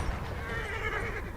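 A horse in the Battlefield 1 video game lets out a loud, close whinny that fills the short moment, with a rough, wavering pitch over game background noise.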